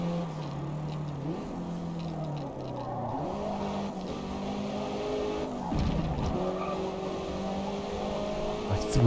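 Video game race cars with a Ford among the rivals, engines whining continuously at shifting pitch as they accelerate and corner, with tire skids and squeals mixed in throughout.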